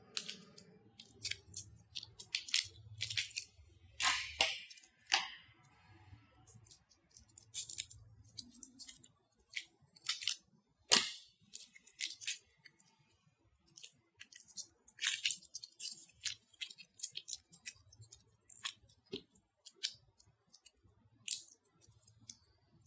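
Epoxy clay being cut for jewelry making, heard as a series of sharp, close scissor-like snips and clicks that come in irregular bursts, with quiet gaps between them and no talking.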